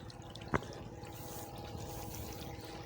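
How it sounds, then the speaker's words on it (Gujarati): Quiet water trickling and flowing steadily through a farm irrigation channel, with a single sharp click or drip near the start. "જો દેખાતું જ ને તમને પાણી જો આમ જાય"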